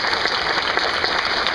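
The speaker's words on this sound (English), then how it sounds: "Let's give a big round of applause for" An audience applauds three candidates on stage, a loud, continuous wash of clapping from a full room, steady with no voices breaking through.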